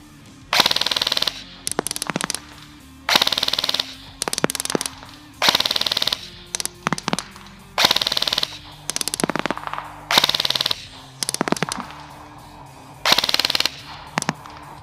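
Well WE01A ARP 9 airsoft gun firing on full auto at an outdoor range, repeated bursts of rapid buzzing shots, roughly a dozen bursts separated by short pauses, loud and close.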